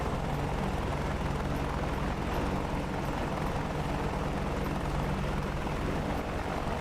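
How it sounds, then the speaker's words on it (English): An AH-64D Apache attack helicopter in a DCS World combat flight simulation over Syria, with a steady, dense rotor and turbine roar filling the whole stretch without a break. "we'll get ready to spawn up in our chopper here"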